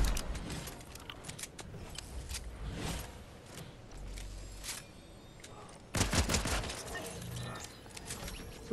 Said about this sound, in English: Where are you shooting at?